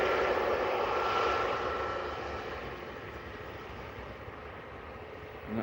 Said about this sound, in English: And that is an Embraer